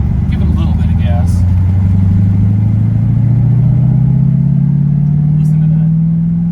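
A 1971 Ford Torino GT convertible with a 429 Cobra Jet V8 and four-speed manual, its engine droning steadily and rising slightly in pitch as gas is given, loud and close throughout.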